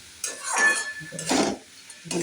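Prawns and bottle gourd being stirred in a pan with oil and cumin, a few scraping, clinking bursts of utensil against pan with a faint sizzle underneath, close and moderately loud.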